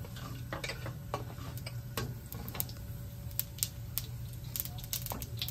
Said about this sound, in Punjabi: ਹੁਣ ਆਪਾਂ ਥੋੜ੍ਹੀ ਜਿਹੀ ਸਰੋਂ ਪਾ ਦਿੰਦੇ, ਇੱਕ ਚਮਚਾ ਛੋਟਾ ਇਹ ਵੀ ਸਰੋਂ ਦਾ ਲਿਆ